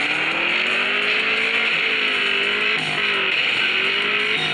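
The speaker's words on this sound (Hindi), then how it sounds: "देखिए अब मैं यहाँ पे ड्रिफ्ट का यूज़ करूँगा।" A car drifting in the Extreme Car Driving 2 mobile game gives a steady, loud engine drone with wavering pitch and a faint tire hiss, continuous and close throughout, with no voices.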